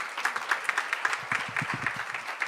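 An event audience applauds an award recipient with moderate, fairly rhythmic clapping at a steady level, while a voice speaks underneath part of it.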